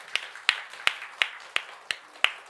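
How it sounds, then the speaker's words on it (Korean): Congregation at a Sunday morning church service clapping in unison, seven sharp, evenly spaced claps at a slow, steady beat, clear and close with quiet between them. "나올 때면 박수 한번 쳐드릴까요?"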